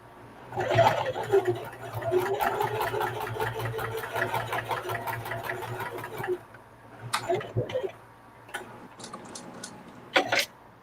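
A sewing machine stitches a reversible bucket hat in a fast, even run of needle clatter for several seconds, then stops, followed by a few short clicks and bursts as the fabric is adjusted, close and fairly quiet.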